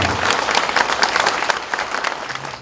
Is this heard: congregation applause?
yes